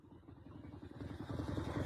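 Motorcycle engine in the 1993 film Carnosaur, a faint low rumble that builds gradually over a couple of seconds, rough and clattery, heard at a distance without talk.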